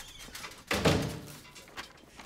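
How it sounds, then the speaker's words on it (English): A door is pushed shut with a single dull thunk partway through, followed by a short fading rattle and quiet room tone. "You mind if I shut the door?"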